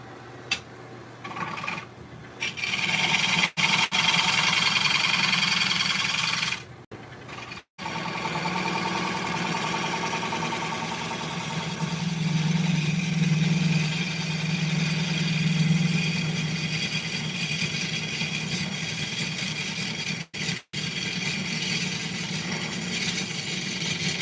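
A lathe gouge cuts into a spalted pine bowl on the lathe, giving a continuous loud whirring, scraping drone that pauses briefly a few times before resuming.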